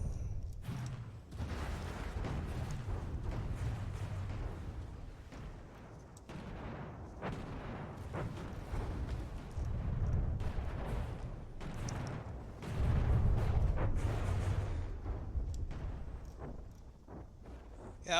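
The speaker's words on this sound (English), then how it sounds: "I was kind of poo-pooing the Cree II's cannons, but they are getting the job done" Heavy airship cannon fire in the From the Depths naval combat game, a dense, continuous barrage of booming shots and rumbling explosions, loud and sustained with a swelling burst near the end.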